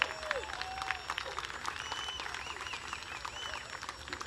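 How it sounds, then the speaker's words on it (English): Crowd applause and cheering at a San Diego Bayfair boat race as an SE Runabout class driver is welcomed, steady clapping mixed with whistles and a voice over the noise. "big round of applause, SE Runabout"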